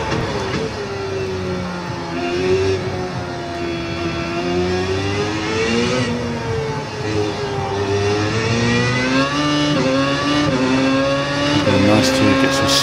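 Open-wheel race car in iRacing, its engine note rising and falling steadily through gear changes and corners, loud and continuous, with a voice talking over it at times.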